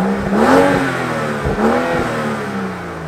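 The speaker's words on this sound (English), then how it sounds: "rev it for a sec." A car engine is revved in a garage, rising in two loud surges with dips between, the mid-pitched roar close and alone without speech.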